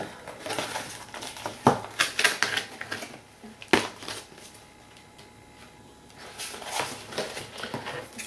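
Paper being trimmed for an altered file folder craft project, with bursts of crisp cutting, rustling and tapping at an uneven pace, close up and fairly quiet, with a short lull partway through.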